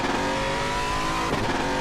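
Race car in RaceRoom Racing Experience screaming at high revs down the track, a loud, sustained engine whine with a brief tire squeal near the end, no talk.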